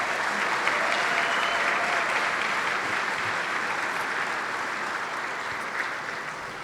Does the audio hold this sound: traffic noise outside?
no